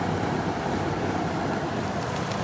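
Early-to-mid 1990s Amana 10,000 BTU window air conditioner running, a steady, loud broadband whoosh of fan airflow with a low hum underneath, unbroken for the whole stretch and with no talking.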